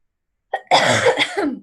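A single harsh cough, close and loud, preceded by a short throat sound, then silence.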